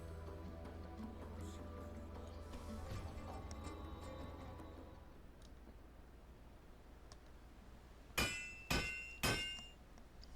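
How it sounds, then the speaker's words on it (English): Crafting hammer strikes in Final Fantasy XIV: three quick, bright metallic clinks near the end, following a low background hum with a soft game soundtrack. "A lot of hammering for a book."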